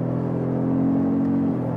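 A 2.6-ton Ford F-150 Raptor pickup truck accelerates hard, its engine giving a loud, steady low droning roar with a rising tone, heard from close by without talk.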